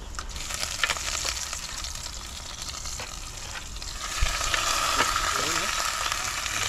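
Tilapia sautés in a hot pan with a steady hissing sizzle and faint crackles, growing louder midway after a soft knock against the pan.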